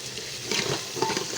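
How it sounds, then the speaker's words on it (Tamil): Mustard seeds hit hot oil for mutton curry, giving a soft sizzle with small pops and scattered patter up close, fairly quiet and without speech. "கடுகு போடுறோம்"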